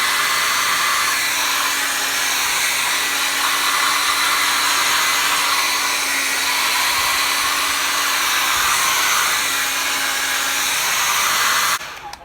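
A hair dryer blows a steady, loud, unbroken whoosh for several seconds while drying a paper drawing, then cuts off at the end, with no talking.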